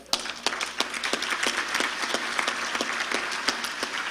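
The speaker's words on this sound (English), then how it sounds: "I want you to give yourselves a hand of applause" An audience applauds at an opening plenary welcome, a steady patter of many hands clapping with sharp individual claps standing out, moderately loud and continuous without talk.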